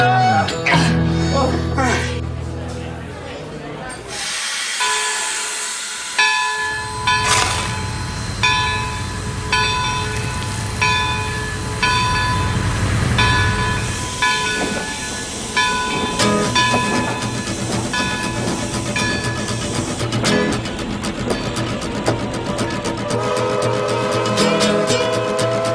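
Train departing a station, with loud hissing steam, clanking railroad cars and a ringing bell; the heavy rumble rises and falls across the stretch, close and dominant, with brief voices underneath.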